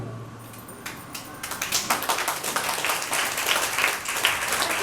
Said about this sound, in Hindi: तो इसलिए माता बहने ज्यादा तालियां बजाएं।